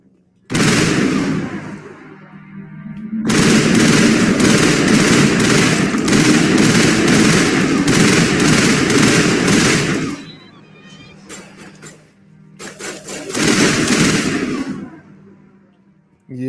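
Sniper rifle fire from the Mass Effect video game sounds as loud, dense bursts of shots in long stretches, broken by short lulls, with a voice talking over it.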